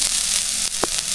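Garlic, shallots and ginger fry in hot oil for soy sauce chicken. They give a brief, steady sizzle with a couple of sharp crackles.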